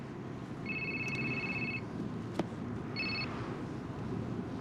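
A telephone rings twice in a quiet room, a bright electronic trill lasting about a second, then a shorter second burst, over a low steady background hum with no voices.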